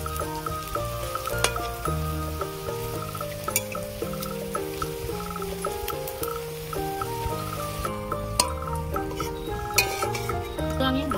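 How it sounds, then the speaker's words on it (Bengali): Chicken kebabs are frying slowly over low heat in a pan, with a quiet sizzle under repeated light clinks and scrapes of a utensil, while steady tonal sounds run in the background. "একদম আস্তে আস্তে জাল দিয়ে আমি এগুলো ভেজে নেব"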